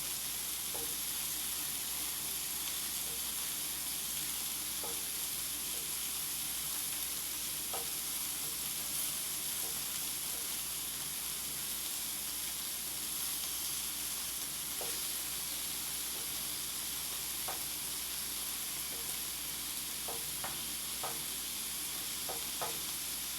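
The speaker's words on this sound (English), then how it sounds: "my meat's basically flipped over. It's going to sear on the other side." Seared shish kabob meat sizzles in a hot pan, a continuous quiet hiss broken by scattered small pops and occasional stirring clicks, with no voices.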